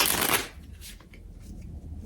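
A deck of tarot cards is shuffled in a quick riffling burst up close, followed by softer brushing and slipping as cards are drawn.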